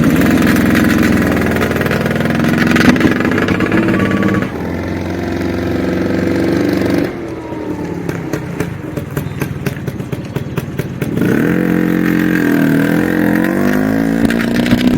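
A classic Vespa scooter engine runs loud and close, idling with a steady puttering note, then its revs shift and it pulls away, the two-stroke buzz rising and changing in pitch.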